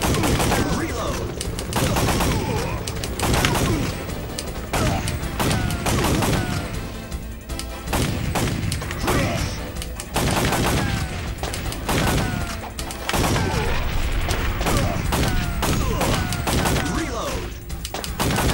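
Loud, steady volleys of gunfire from light-gun shooting in Time Crisis on the PS1, sharp repeated shots cracking one after another with barely a pause, plus some heavier thuds layered in.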